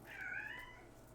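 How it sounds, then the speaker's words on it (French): A pet cat gives a single drawn-out meow, fairly faint and close, rising and then falling away, alone in a quiet room. "Vous entendez mon chat croquette?"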